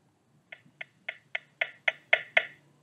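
A series of eight short electronic volume tones from a Jabra Speak 410 conference speakerphone in an even rhythm, each a little louder than the last, over a faint low hum.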